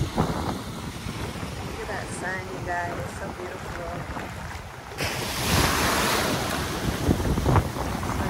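Surf washing on the Emerald Coast of the Gulf of Mexico, with a steady wash that swells louder midway through, mixed with wind buffeting the microphone.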